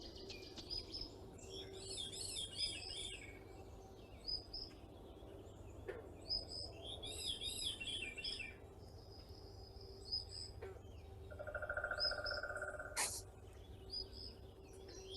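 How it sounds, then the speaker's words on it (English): Several different birds sing and chirp in overlapping calls, fairly close, over a steady low background hum, with insect-like buzzing now and then. "If I'm quiet though, maybe we'll pick up some bird sounds."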